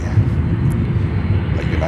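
A United Airlines Airbus A321neo on inbound approach at Chicago O'Hare gives a steady low engine rumble and airy wash, fairly loud and constant for a short stretch, with a voice talking over it.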